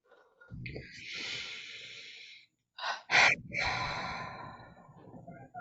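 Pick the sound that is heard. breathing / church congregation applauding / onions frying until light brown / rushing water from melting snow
breathing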